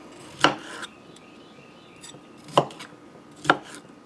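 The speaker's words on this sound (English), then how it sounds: "You don't need to cut it too small because you want to have chunks of cauliflower when you're done" A knife chops cauliflower into chunks on a board for white bean soup, giving three sharp, close cuts spaced apart over a quiet background.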